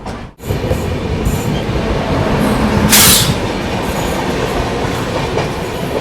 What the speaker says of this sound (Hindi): तो ये जो ट्रेन है ना, ये ट्रेन दोपहर में 12:45 पे निकलती है